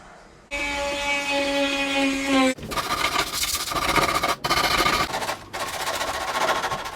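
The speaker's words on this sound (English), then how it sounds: "this Dremel sanding bit here to get the rest of the resin off these repairs here that they've just put resin on" Dremel rotary tool with a sanding bit grinding cured resin off repair patches on a surfboard, a steady high-pitched whine for about two seconds and then a rougher, fluctuating buzzing with brief dips as the bit bites into the surface.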